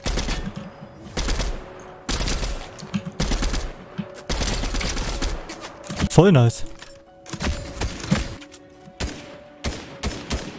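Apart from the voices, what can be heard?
gunfire from the video game Fortnite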